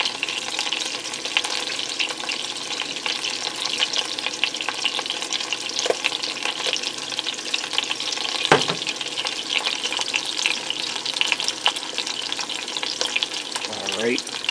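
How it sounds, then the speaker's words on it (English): A sauce with molasses being stirred in a pan while pork roast browns in a pressure cooker, a steady bubbling sizzle with scattered spoon scrapes and clinks, close and with no talking. "now I'm going to give that a stir"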